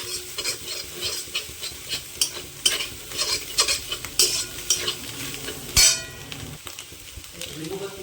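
Onion and egg are stir-fried in a pan without spices, only a little salt, as a continuous sizzle runs under repeated scraping and clinking of a metal utensil against the pan, close up, with a few louder knocks.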